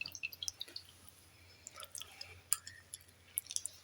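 Cornflour-coated chicken pieces are dipped into water in a home kitchen, producing faint scattered drips, small wet splashes and squishing sounds in an otherwise quiet background.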